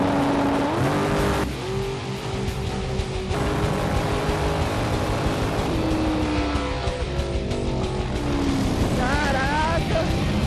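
A race car engine roars and revs on a track, pitch rising and dropping through gear changes, with excited voices shouting over it.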